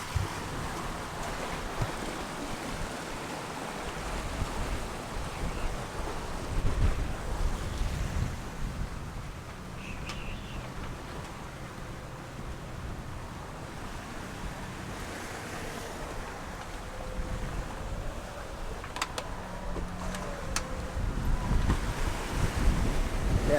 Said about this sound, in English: I think this wind here is just more from the squalls around us